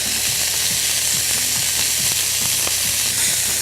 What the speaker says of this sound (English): So let's just make sure that the meatballs are browned well on all sides.